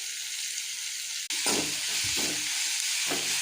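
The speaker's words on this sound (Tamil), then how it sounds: "நீல வாக்கில் கட் பண்ண ஆனியன், தேவையான அளவு சால்ட்டு போட்டுக்கலாம்" Sliced onion and salt dropped into hot oil in a kadai, where a steady hiss suddenly swells into a louder crackling sizzle that pulses as it is stirred.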